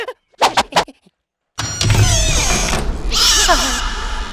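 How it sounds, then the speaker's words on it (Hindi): In a dark, supposedly haunted haveli, a few sharp knocks give way to a noisy stretch where a cat lets out drawn-out, wavering meows, eerie and fairly close. "ये बिल्ली की आवाज है या किसी चुड़ैल की आवाज है?"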